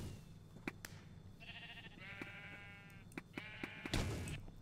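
Sheep bleat in Minecraft with several wavering, harmonic cries at moderate level, separated by short clicks and game noises, ending in a brief noisy burst.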